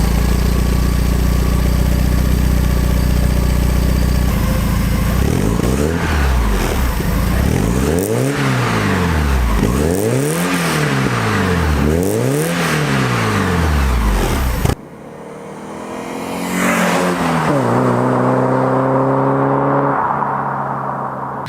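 Porsche 944 fitted with an aftermarket Dansk exhaust, revving repeatedly in rising and falling sweeps over a steady idle, then a deeper rumble as it settles back; loud and close with no talk.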